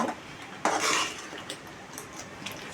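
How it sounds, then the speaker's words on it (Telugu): Spoon stirring ground spices such as coriander powder into a chicken and stuffed brinjal curry in a pan, a short soft scrape and clink followed by faint scraping strokes, quiet and close. "మొత్తం మసాలాలన్నీ వేసేసుకున్న తర్వాత ఒకసారి అలా కలిపేసుకుందాం."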